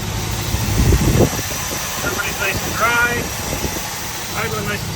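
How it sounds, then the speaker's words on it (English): A rebuilt Dodge Challenger T/A 340 six-pack engine idles steadily with a low, even rumble and slight fluctuations, heard close with faint whistling tones over it. "Everybody's nice and dry, idling nice and smooth."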